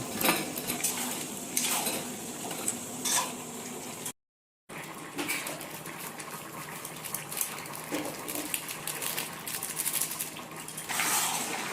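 Potatoes and chicken stir-fried in biryani masala, a metal spoon scraping and clinking against the pot in a steady run of clatters over a low sizzle, close and moderately loud, with a brief dropout partway.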